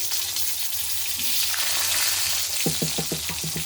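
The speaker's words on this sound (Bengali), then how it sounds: "এবার এই তেলের মধ্যেই আমি আলুগুলো ভেজে নেব।" Potatoes fry in the same oil just used for fish, giving a loud, dense sizzle close by, then a quick run of rhythmic tapping or scraping strokes near the end.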